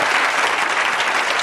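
Audience applause at a heated political debate, a dense, loud burst of many hands clapping together for a brief moment with no voices over it.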